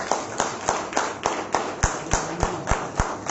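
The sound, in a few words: clapping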